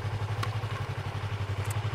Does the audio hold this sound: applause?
no